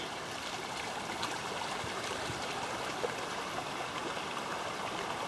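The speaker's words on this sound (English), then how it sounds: "I want to hear the sound of trickling water and not cars." A small creek trickles and babbles steadily through the bush along the Great North Walk in Brisbane Water National Park, a close, even wash of running water with no voices.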